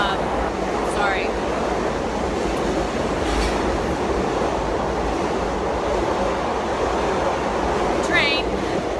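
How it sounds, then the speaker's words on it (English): A train passes nearby with a loud, steady rumbling roar that fills the whole stretch, with a few faint high chirps riding over it. "Train."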